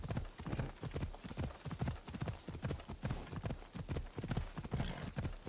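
Horse hooves clip-clopping in the video game Assassin's Creed Odyssey, a steady, brisk trotting rhythm of close, evenly spaced hoof strikes continuing throughout with no talking.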